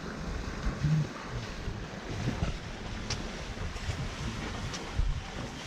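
Sea breeze blowing over a sailboat under way, a steady rushing wind buffeting the microphone with soft water wash underneath and a few light knocks.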